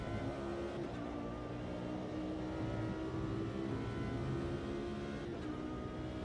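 An Audi race car engine in a racing video game, a steady droning hum that holds at an even level throughout, without clear revs or gear changes.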